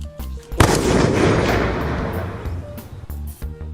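Game explosion effects from One Piece Bounty Rush: one sharp loud blast, then a long dense roaring rumble that fades slowly over a few seconds, with faint game sounds around it.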